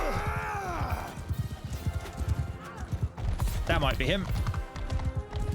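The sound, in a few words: horses trotting in video game Bannerlord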